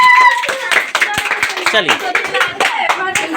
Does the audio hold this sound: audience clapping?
yes